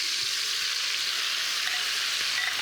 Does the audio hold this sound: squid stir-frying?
yes